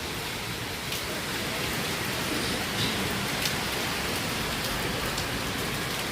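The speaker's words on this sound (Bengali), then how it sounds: "বৃষ্টি পড়ছে।" Rain pours down steadily and heavily during a storm, a continuous, even hiss of drops hitting surfaces nearby, with no breaks or voices.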